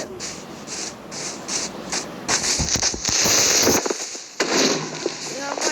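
A Minecraft creeper detonates in the game, its crackling burst landing midway after a stretch of hissy, rustling game noise, followed by quieter scattered crackles.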